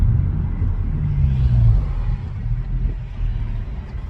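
A 2019 Honda Civic Sport with its muffler deleted idles and revs with a deep, throaty rumble up close, swelling briefly before settling back to a steady low drone.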